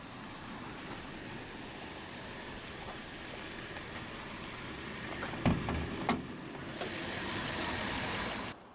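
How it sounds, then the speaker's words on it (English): A 2018 Volkswagen Passat with a 2.0-litre TSI turbocharged inline-four idles with a steady, even hum, broken by a few brief clicks and a slight rise in level near the end. "Powering this car is the Passat's base engine for 2018, which is VW's TSI 2-liter turbocharged inline-4"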